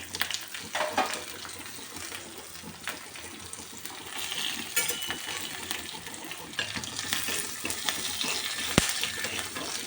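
Peppercorns crackle and sizzle steadily in hot ghee with cashews, green chilies and ginger, with scattered pops and stirring noises, fairly close and continuous.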